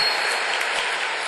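A graduation ceremony audience claps in a dense, steady burst of applause that carries through the whole short moment, bright and fairly loud, with no voices.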